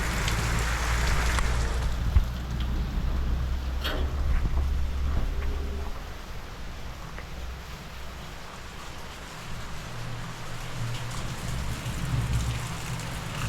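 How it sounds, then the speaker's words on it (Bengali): Heavy rain pours steadily at an ashram during Durga Puja season, a dense, continuous hiss of drops on surfaces that holds fairly constant for the whole stretch, with a single sharp knock early on. "খুবই জোর বৃষ্টি পড়ছে"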